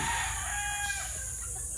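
A free-range rooster crows nearby, a long strained call over a steady background hum.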